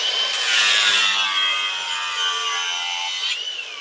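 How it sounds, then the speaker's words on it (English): A hand saw cutting a steel brake caliper bolt during rear brake work on a 1995 Cutlass Supreme, a steady rasping scrape with strokes running continuously for about four seconds, close and fairly loud, no talking. "We're going to flip it over, and we're going to cut it a little bit."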